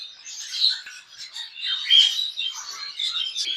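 A breeding pair of cockatiels, a common white male and a common pearl female, calls nearby in a steady run of shrill squawks and chirps with no voices.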